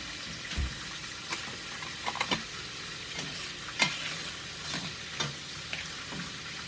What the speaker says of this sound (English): I'm going to get my potatoes out and stir them